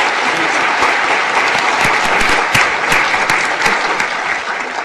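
An audience at Marquette Law School applauds steadily as panel guests are welcomed, a dense, loud wash of clapping from many hands that continues throughout and fades slightly at the end.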